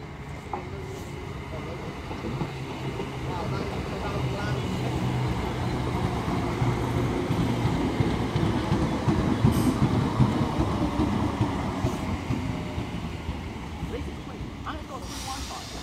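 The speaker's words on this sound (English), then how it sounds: "departing now is 322-482, making pretty much the same noise as a 319" British Rail Class 322 electric multiple unit departing a station on a Northern service, a steady rolling rumble with rail clatter building and holding close by for the whole stretch, with no talk over it.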